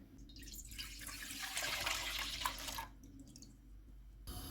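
Milk is poured into a pan for homemade ice cream, a short close liquid stream lasting about three seconds, with no talking.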